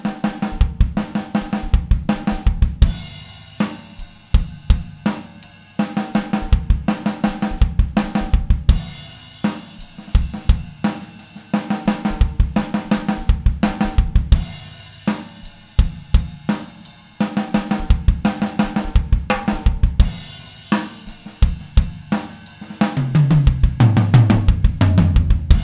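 Drum kit played in continuous six-note and four-note sticking patterns, steady rapid strokes with regular accents, loud and close with no talking.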